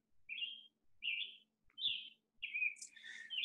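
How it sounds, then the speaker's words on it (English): Red-winged blackbirds call during spring migration on the South Fork. Four short, bright call phrases come at a steady pace, the last one longer and trilling, moderately distant in an otherwise quiet outdoor setting. "when I start hearing red-winged blackbirds calling"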